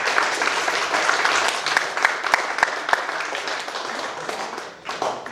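An audience at a middle school 8th grade awards ceremony applauds the award recipients, a steady wash of many hands clapping with a few sharper close claps standing out, fading slightly toward the end.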